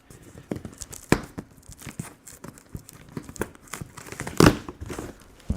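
Cardboard crinkles and tears as the box of a VEVOR electric double-frame milk tea shaker is cut open, with soft scattered rustles and a few sharper close snaps and rips, quiet overall and without talk.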